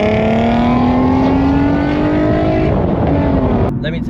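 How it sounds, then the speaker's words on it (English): A manual Nissan 370Z sports car drones loud and close as its engine note slowly climbs, then the pitch drops and breaks off near the end, suggesting a downshift. "downshifting to drop a few gears or a gear and disappear"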